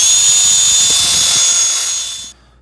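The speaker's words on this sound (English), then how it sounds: "just gonna use a drill, the brush attachment on it." A drill with a wire brush attachment scrubs rust from a rusty spoked wheel on a garage-find Honda CL350 Scrambler motorcycle: a loud, close, high whirring buzz that runs steadily, then cuts off abruptly near the end.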